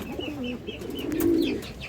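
A Gorra pigeon coos in a few soft, rolling low calls close by, with faint chirps in the background and no talking.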